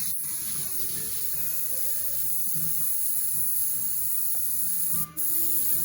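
Airbrush hissing steadily while custom paint is sprayed onto a motorcycle, a continuous close airy spray with a brief cut near the end.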